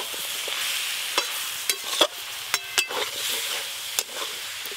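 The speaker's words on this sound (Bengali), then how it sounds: "এই যে মোচা রান্না হচ্ছে" Banana flower curry with fried fish heads cooking in a pan, a steady bright sizzle with occasional sharp clicks of a spoon stirring against the metal, no voices.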